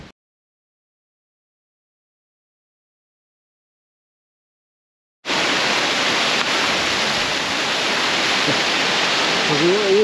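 After about five seconds of silence, a loud, steady broadband rush of water flowing down a hillside on Beinn Bhuidhe starts abruptly and continues unbroken.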